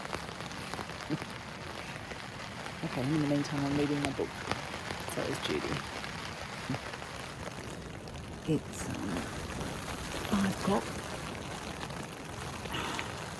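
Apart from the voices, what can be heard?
rain falling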